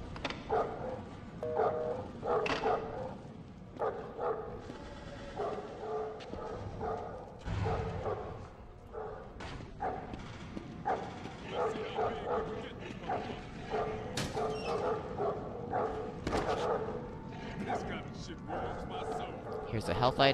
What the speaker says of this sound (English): So you just need to go to where you hear that dog barking.